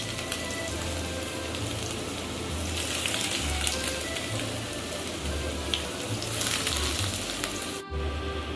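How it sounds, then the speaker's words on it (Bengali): Cauliflower batter pakoras deep-fry in hot refined oil, giving a continuous dense sizzle and crackle that holds steady throughout, close and fairly loud, with a brief clatter near the end. "এবার এই ফুলকপির ব্যাটারটার থেকে পকোড়ার মতন ভেজে নেব।"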